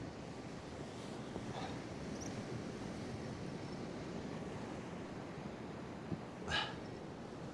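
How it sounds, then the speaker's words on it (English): Strong wind and sea swell on a Dorset beach: a steady broadband roar of gusting wind and surf fills the whole stretch, with a brief louder rush near the end. "It's blowy, really blowy."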